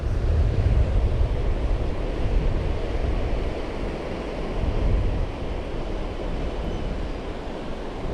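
Ocean surf breaks on a beach during surf fishing, forming a continuous low roar of waves that swells and eases, with wind buffeting the microphone and no voices.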